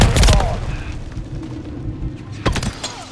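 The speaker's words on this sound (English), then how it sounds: "throwing flash grenade!" A flash grenade goes off in Call of Duty: Modern Warfare 3 with a loud, sharp bang at the start, followed by a ringing, muffled lull and more scattered gunfire bursts near the end.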